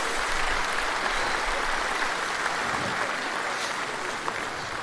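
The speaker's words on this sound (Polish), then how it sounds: "Brawa dla Pana." Audience applause fills a concert gala at the Silesian folk festival stage, a steady, dense clapping from a large crowd that runs unbroken throughout without talk over it.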